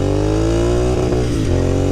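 Continental GT 650 twin-cylinder motorcycle engine revving hard in first gear, held against the rev limiter with a loud, steady, stuttering drone close by, no talking.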